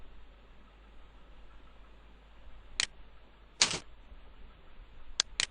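Computer mouse clicks and keyboard key presses at a desk while working in CorelDRAW, a few sharp isolated clicks against quiet background hiss, one slightly longer double click in the middle.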